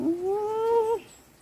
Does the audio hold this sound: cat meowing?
yes